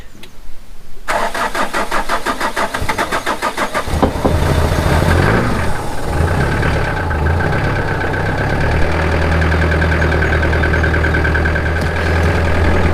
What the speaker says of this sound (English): try and get this van running, because on veg oil it's kind of hard to get them started when it's cold like this